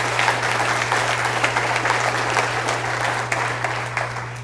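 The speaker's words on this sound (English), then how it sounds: "Let's give them a round of applause as well." Loud, sustained applause from an audience at a company all-hands meeting, a dense wash of clapping over a low electrical hum, continuous throughout.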